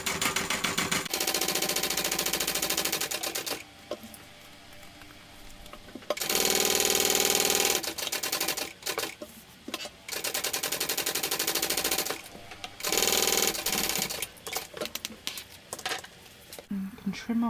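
A sewing machine bastes a crossbody bag pocket in rapid, rattling bursts of stitching, stopping and starting several times with short pauses between runs, close and clear.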